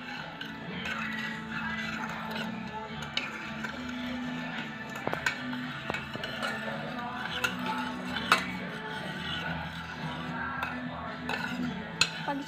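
Utensils clink and scrape steadily while atchara ingredients are mixed in a container, with small taps and knocks scattered through the stirring in a quiet room.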